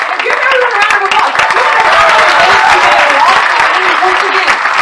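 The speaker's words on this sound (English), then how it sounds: "Give everyone a round of applause." Sustained audience applause at a low-carb cruise gathering, dense and loud throughout, with a voice speaking over the clapping.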